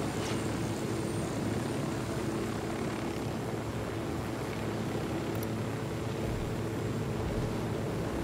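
Helicopter in the Ghost Recon Wildlands game flying overhead above trees, a steady dense rotor and engine drone held at constant loudness throughout, with no talk.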